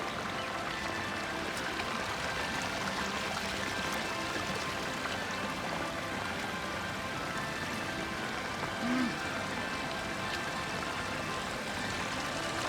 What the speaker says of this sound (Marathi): धबधबा एकदम मोठा आहे आणि खूप फेसाळलेला आहे